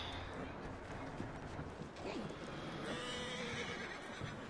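A horse whinnies and its hooves clop in Red Dead Redemption 2, the neigh fairly close and quiet amid low background sound, with someone speaking over it.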